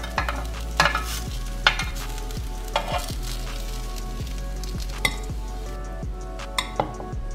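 Oats tikkis cooking in a pan with a little ghee, a steady sizzle and fry running throughout, broken by occasional light clinks and scrapes of a utensil against the pan.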